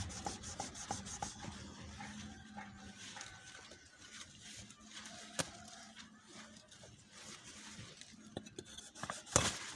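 A kitchen knife is sharpened by hand with steady rasping, rubbing strokes, close and fairly quiet, over a continuous background hum with a few sharper knocks.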